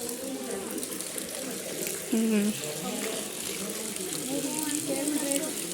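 Water pouring and splashing as feet are washed at a temple, a continuous gushing wash with people talking over it.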